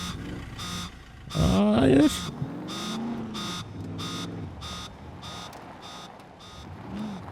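An airdrop crate alarm in the survival video game Scum beeps in an even, repeating pulse, with someone speaking briefly over it.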